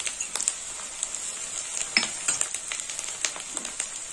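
Green chili, cumin and ginger pastes frying in a pan for muri ghonto, a steady soft sizzle with scattered clinks and scrapes of a spoon stirring, close and alone.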